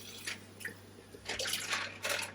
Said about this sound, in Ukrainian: І зараз я бачу, що мені необхідно додати трішки води.